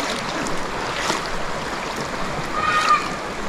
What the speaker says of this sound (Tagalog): Malakas ang current ng tubig dito.